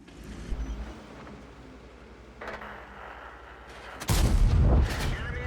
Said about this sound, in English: We have a clip here where I'm firing at a tank destroyer that's quite a ways away